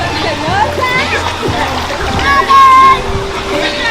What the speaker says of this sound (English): young Kino, man, splash up the water, you hear me?